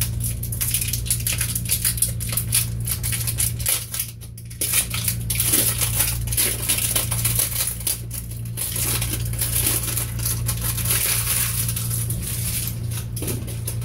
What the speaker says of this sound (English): Got some tight cellophane wrapping on it.